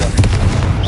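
A single Confringo blasting spell from the Hogwarts Legacy video game, a loud, short explosive burst with a brief booming tail.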